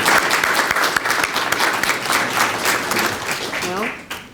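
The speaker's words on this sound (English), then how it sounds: "let's give them another round of applause" An audience at a graduation ceremony and annual meeting gives a steady, dense round of applause that fills the room and stays loud and even before tapering at the end.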